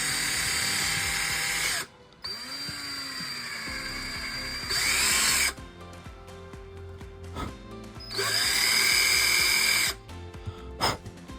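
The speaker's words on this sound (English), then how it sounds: "I'm going to use a drill to make my pilot hole" Power drill boring a pilot hole into a 1/16 scale M901 ITV model tank hull, several loud high-pitched whirring bursts separated by short pauses, close up.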